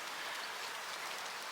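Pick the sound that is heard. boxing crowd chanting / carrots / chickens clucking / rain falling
rain falling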